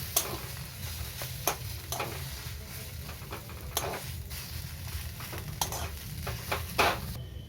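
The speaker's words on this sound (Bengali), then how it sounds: "এবার ভালো করে আলুর সাথে মিশিয়ে নেব" Spoon stirring potato filling with cumin powder, coriander powder and chopped green chilli in a hot sizzling pan, with frequent sharp scrapes and taps against the metal over a continuous frying hiss.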